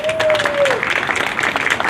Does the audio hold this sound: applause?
yes